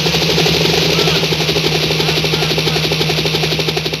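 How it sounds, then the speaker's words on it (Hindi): Helicopter sound effect during a stage comedy nautanki show, a steady loud rotor thrum and engine drone with rapid pulsing throughout, voices faint beneath. "और पायलट हेलीकॉप्टर नीचे ला"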